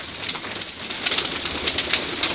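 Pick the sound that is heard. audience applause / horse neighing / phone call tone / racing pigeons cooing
racing pigeons cooing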